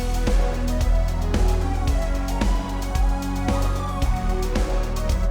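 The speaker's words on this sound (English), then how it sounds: "And I just went with a string sound, very generic, right out of Falcon." A generic string patch from the Falcon synth plays a counter melody within a full mix, sustained string tones riding over steady, punchy drum hits and bass, loud and upfront.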